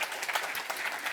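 Brief burst of audience clapping for a headline sponsor at a Web3 event, a dense patter of hands at moderate level lasting just over a second with no voices.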